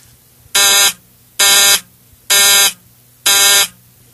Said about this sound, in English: One pair will operate the buzzer, indicating a closed circuit.